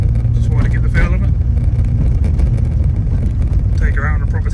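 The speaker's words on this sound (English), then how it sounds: "Car seems to drive quite nice." An MG ZS 180 car drives along a rough road, its engine and road noise a loud continuous low rumble from inside the cabin, with someone talking over it.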